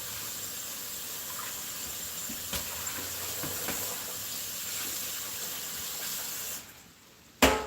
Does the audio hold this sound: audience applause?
no